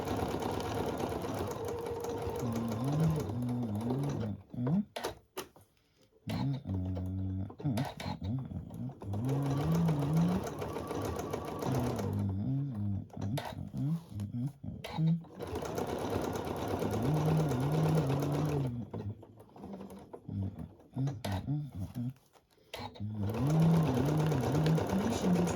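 A sewing machine stitches a small table runner in steady whirring runs that stop and start with short pauses, close and fairly loud, with a faint voice underneath at times.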